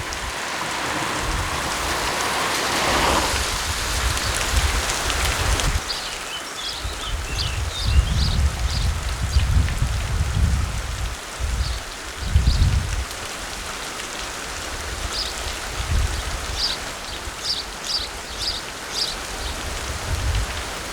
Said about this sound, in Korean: 어느 정도 빗줄기가 약해진다.